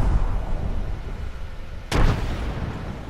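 Arc star grenade detonating in a shooter video game, one short sharp burst over a steady background of game ambience.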